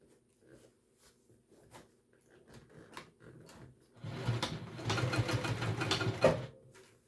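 A sewing machine restitches over a skipped stitch on a backpack, starting after soft handling noises with a steady, loud mechanical whir of rapid needle strokes for a few seconds, close up and without talk.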